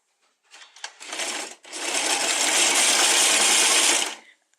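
Sewing machine stitching a seam on a knitted gown, a loud, close, steady mechanical whir that briefly stutters after a second, then runs continuously for about two and a half seconds before stopping.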